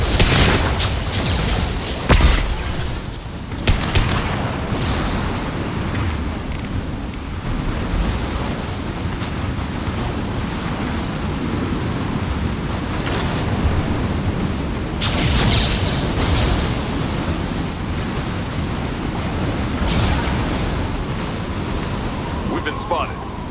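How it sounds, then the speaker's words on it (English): Mass Effect 2 combat erupts in a flashbang blast among booming impacts and gunfire, a dense, loud wash of explosions throughout with characters speaking under the noise. "Watch out, flashbang!"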